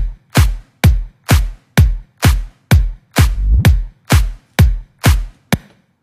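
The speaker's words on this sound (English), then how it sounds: "With the snare, you can hear what it sounds like this." Eleven loud, punchy snare hits in a steady rhythm from an electronic track, each with a sharp crack and short bright decay, heard alone with no voices.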